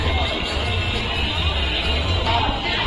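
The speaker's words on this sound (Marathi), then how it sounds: "गर्दी खूप असणार आहे" Dense crowd hubbub in a busy shopping street near a temple, with clothing and toy stalls, a steady wash of overlapping voices and bustle at even loudness throughout.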